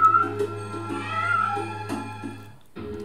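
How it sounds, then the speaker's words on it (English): A cat meows inside a room in the video game Bad Mojo, a few close calls over a steady low background drone. "so the cat's in this room too."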